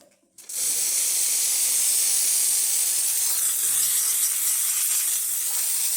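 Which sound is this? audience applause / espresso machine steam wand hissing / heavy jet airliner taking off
espresso machine steam wand hissing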